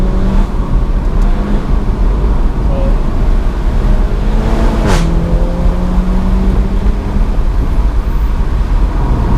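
A Seat Leon Cupra 290 hatchback accelerates through a bend, its engine note steady and close from inside the cabin, with road and tyre noise throughout and a brief whoosh near the middle.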